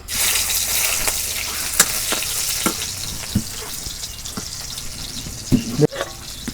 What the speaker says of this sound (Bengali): তেল গরম হয়েছে, এখন আমি দিয়ে দেবো পেঁয়াজ কুচি।